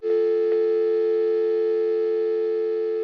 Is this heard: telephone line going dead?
yes